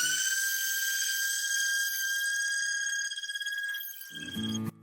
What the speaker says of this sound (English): I am going to sand this.